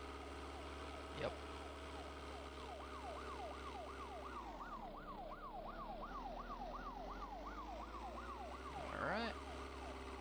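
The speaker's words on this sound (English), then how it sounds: "That siren's gonna be back on." A wailing emergency siren sounds in the video game Vein, its pitch sweeping up and down in a steady rapid cycle that dips briefly midway, while someone says a word over it.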